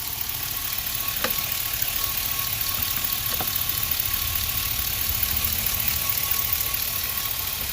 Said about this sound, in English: All you're going to hear over here are the lifters.